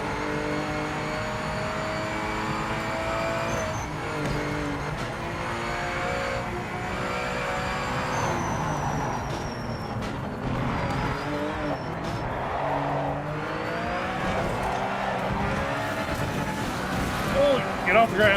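Porsche GT4 race car engine in the Project Motor Racing sim, a steady droning rev with shifting pitch, tyre squeal and brief skids near the end, with a voice talking over it.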